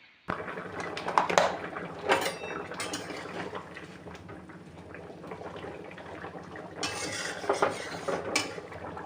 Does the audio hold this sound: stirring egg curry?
yes